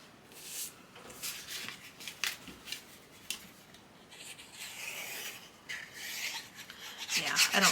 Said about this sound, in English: Over and burnish it down.